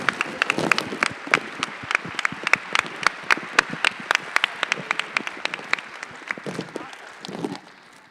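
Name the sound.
audience applause for the event curators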